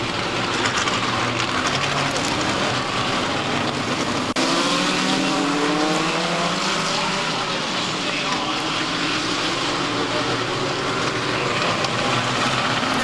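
Midget race cars at a New England track roar around together toward the green flag, their engines a continuous loud, rising buzz with shifting pitches as the pack passes close by.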